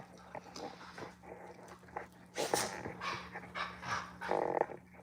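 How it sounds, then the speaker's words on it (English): Dogs wrestling together in a home, with panting, snuffling and low growly grunts that swell and fade in irregular bursts, fairly close over a steady background hum. "My dogs are wrestling."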